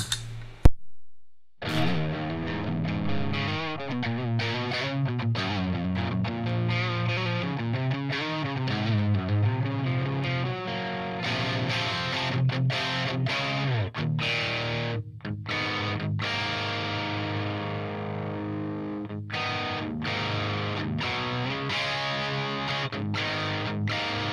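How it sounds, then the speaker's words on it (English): Electric guitar through a Quad Cortex or Axe-Fx III with the Savage Drive pedal off plays strummed chords and single notes with a fairly clean, low-gain tone, steady and fairly loud, with a few brief pauses. "when I turn off the Savage Drive here, you'll hear like there's not much gain going on there at all"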